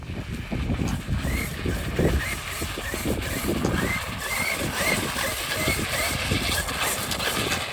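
A brushless Traxxas Summit RC truck on studded tires drives across ice outdoors, its motor whining and tires rattling in a continuous rough roar through wind noise, with no pauses.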